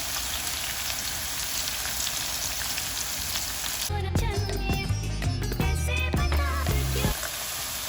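Onions, garlic and other ingredients for gongura chutney sautéing in a pan, a soft steady sizzle like light rain, briefly covered by a burst of clattering and stirring near the middle.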